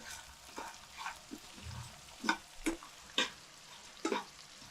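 Capsicum and other vegetables fry gently in a pan for colourful rice, a faint low sizzle broken by several sharp scraping and clinking stirring strokes spaced a second or so apart.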